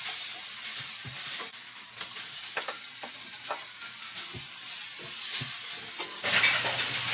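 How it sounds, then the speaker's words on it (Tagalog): Garlic and onion sauté in a frying pan with a steady sizzle, broken by repeated sharp scrapes and clacks of a spatula stirring, and the frying grows louder near the end. "inuna ko lang pong igisa ang ating bawang at saka sibuyas"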